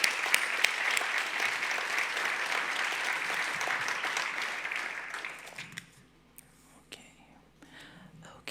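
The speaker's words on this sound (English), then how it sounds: "So give him one more round of applause, please." Sustained applause fills the hall at the Saskatchewan Arts Awards ceremony, then dies away to a few scattered claps and faint murmurs from the audience.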